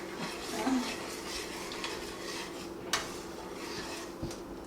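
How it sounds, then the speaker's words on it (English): A utensil stirs through food in a cooking pot with the heat off, soft continuous scraping and swishing, faint and close, with a few light clinks against the pot. "Stir that in"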